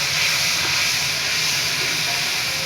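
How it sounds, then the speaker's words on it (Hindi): Ginger, garlic and green chilli paste added to a hot pan of lightly browned onions for chicken yakhni pulao, giving an even, loud, close hiss of steam and sizzle that holds steady throughout without speech. "अब इसमें अदरक लहसुन और हरी मिर्चों का जो हमने पेस्ट बनाया था वो डालेंगे"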